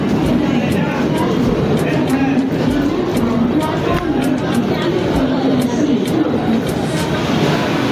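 Rumbling train at Dadar station amid a busy crowd, a loud continuous rolling clatter with rhythmic wheel knocks under constant chatter of many people.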